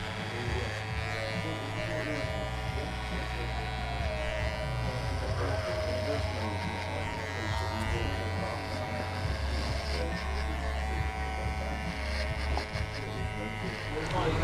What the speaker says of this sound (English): Let's just shave all this off now.